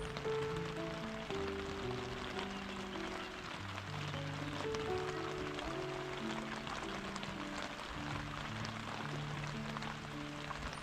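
Steady rain falls in Kashmir in a continuous hiss, with soft musical tones drifting underneath throughout.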